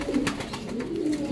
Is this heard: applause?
no